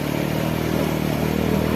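An off-road motorcycle fords a flowing, crystal-clear stream, its mid-pitched engine droning loud and steady and close with a broad rushing wash throughout, and no voices.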